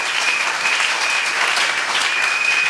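A church congregation applauds steadily and loudly, a dense wash of clapping hands that fills the room without pause.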